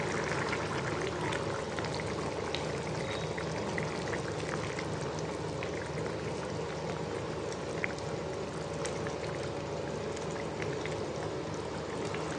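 Chicken chana masala with potatoes simmers in a covered pot, giving a steady, dense bubbling hiss that stays even and unbroken throughout with no voices.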